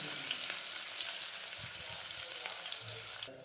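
Curry leaves, coarsely pounded ginger and garlic frying in hot oil in a home kitchen, a faint, steady sizzle with a few soft stirring clatters.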